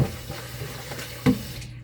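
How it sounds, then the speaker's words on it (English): Water runs into a bowl as it is rinsed while making fufu: a soft, steady trickle with a brief louder splash near the end, no speech. "So let me rinse in this bowl."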